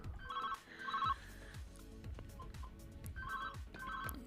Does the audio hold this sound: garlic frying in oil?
no